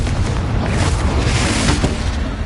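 A Confringo blasting spell explodes in Hogwarts Legacy as a loud, sustained broadband roar that fills the whole moment without letting up.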